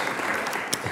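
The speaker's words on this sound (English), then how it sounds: "It's very rare for me to get an applause in the beginning" An indoor audience applauds at the start of a talk, with a short, dense burst of steady hand clapping filling the whole second and no voices.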